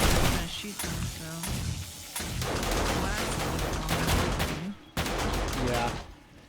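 Gunfire rings out in rapid bursts at zombies in the survival game 7 Days to Die, loud over a busy backdrop of game noise, with a person talking at times.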